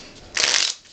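A deck of playing cards riffled in a single quick shuffle, a bright close burst of fluttering card edges lasting about half a second.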